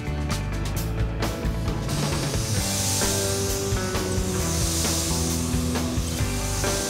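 A compressor-free handheld paint sprayer lays a light coat on a custom half table, giving a steady close hiss under a droning motor whine throughout.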